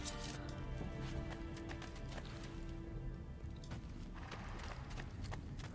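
Horse hooves clip-clop steadily at a trot in the video game Assassin's Creed 2, a rhythmic run of close hoofbeats over a low, continuous game background.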